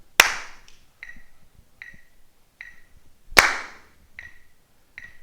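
Hand percussion in a rhythm check pattern: two loud sharp claps mixed with lighter, evenly spaced taps and slaps in a steady beat, close and dry, with no talking.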